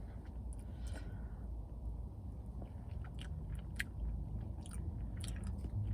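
Someone bites and chews a slice of Celebration Cheesecake from The Cheesecake Factory inside a car, with close, wet, crunchy mouth sounds repeating over a low steady background hum.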